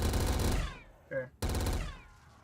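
The death machine minigun in Black Ops 3 custom zombies fires in loud, rapid bursts. One long rattling stream cuts off briefly and then resumes with another burst that fades out. A voice is faintly present.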